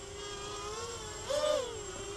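A Hitec 280 FPV race quadcopter flies nearby, its steady high motor whine rising in pitch and loudness as it comes closer around the middle, then easing back down.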